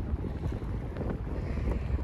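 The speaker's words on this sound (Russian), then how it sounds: "Какой сильный ветер, а!" Strong wind buffets the microphone at a cliff edge above the sea near Divnomorskoye, a continuous roaring rumble with gusty low thumps and no speech.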